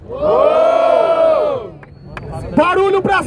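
A large crowd at a Portuguese-language rap battle semifinal roars and shouts in a loud, sustained cheer that fades, then bursts into another round of whooping and yelling.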